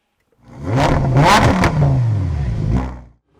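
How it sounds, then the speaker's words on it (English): A Lamborghini Huracan Performante V10 blips its engine, rising to a loud, close snarling rev and holding it with a couple of surges before dropping away to silence. "there's nothing like a little Huracan Performante V10 in the morning"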